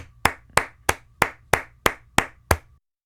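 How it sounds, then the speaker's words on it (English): Eight crisp hand claps in an even, steady rhythm, each sharp and close with a short decay, followed by silence. "Got my claps, and here they are."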